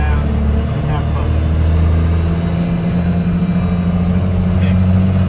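First-generation Cummins diesel pickup pulls hard through second gear, a loud, steady low engine drone that holds for the whole stretch, close by and with no letup.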